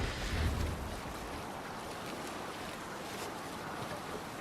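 A Viking longship sails over open water in Assassin's Creed Valhalla, with a steady wash of waves and wind rushing past, a little louder at first, then settling into a constant, even hiss.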